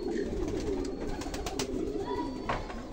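Racing pigeon cooing nearby, soft low repeated coos over steady background hum and faint rustling, with no voices.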